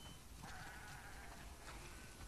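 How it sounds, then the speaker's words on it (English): Sheep bleating in a barn in the video game The Last of Us Part II, a couple of wavering bleats rising over a dull background hum, faint and somewhat distant. "Wow, that's a lot of sheep."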